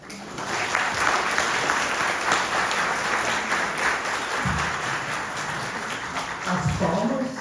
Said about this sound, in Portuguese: As palmas são para o aniversário